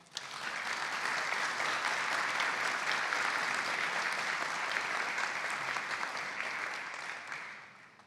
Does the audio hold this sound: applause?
yes